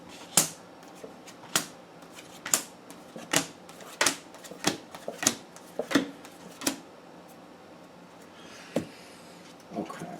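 Tarot cards are shuffled in a series of sharp, evenly spaced riffles and taps, about a dozen crisp bursts over several seconds, close and clear, with no voice over them.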